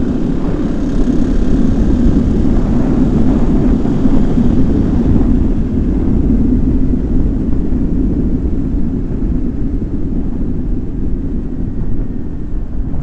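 Car engine at speed through a fast corner with the clutch pulled in, a steady loud broadband roar of engine and wind that holds constant for the whole stretch before easing slightly toward the end.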